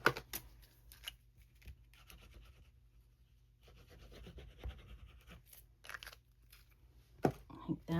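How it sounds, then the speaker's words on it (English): Paper cloud shapes for a handmade card are punched out with a craft punch, giving a few quiet, sharp crunching and tearing snaps separated by near silence, with soft rustling between. "Let's punch out my clouds here."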